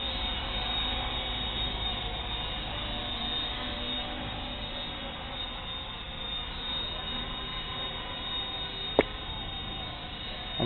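A remote control helicopter on a test flight gives off a steady, continuous motor-and-rotor whine, fairly close and unbroken for the whole stretch, with one sharp click near the end.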